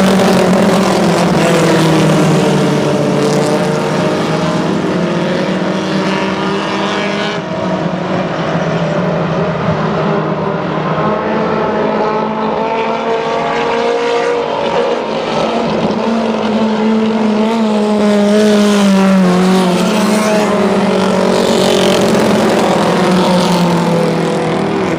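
Modified mini race cars roar off at the first green flag of the season at a West Georgia track, a loud continuous massed engine howl with rising and falling pitch sustained throughout, no voices.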